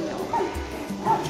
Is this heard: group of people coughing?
no